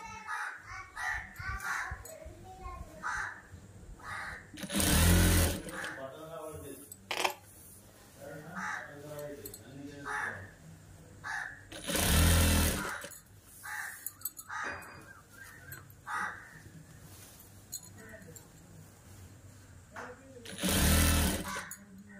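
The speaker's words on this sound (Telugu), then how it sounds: "అలా ఈ విధంగా పెట్టి కుట్టు వేసుకుంటూ రావాలండి." A sewing machine stitches a long child's frock made from an old work saree, running in three loud bursts of rapid whirring, one every few seconds, between stretches of talk with crows cawing in the background.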